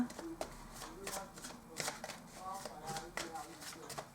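Interstellar oracle cards are shuffled for a reading, giving a run of soft, close riffling and flicking bursts while a person talks over them.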